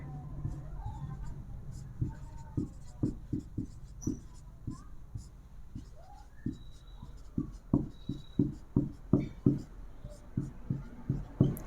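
Chalk or a marker writes on a board during a maths teaching lesson, making a close series of short scratchy taps and strokes that come faster and louder toward the end.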